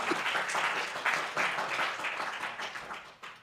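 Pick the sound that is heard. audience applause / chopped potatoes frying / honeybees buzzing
audience applause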